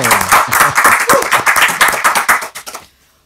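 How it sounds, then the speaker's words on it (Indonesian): A studio audience at a podcast taping applauds the arrival of guest Diki Chandra, with dense, loud, steady clapping that continues for about three seconds and then stops abruptly into near silence. "Tepuk tangan buat Diki Chandra."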